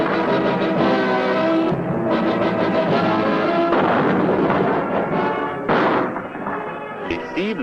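Tank cannon of a hussar regiment firing on a live-fire range, heavy booming reports with rumbling echoes and mechanical noise close by, several blasts spread across the clip.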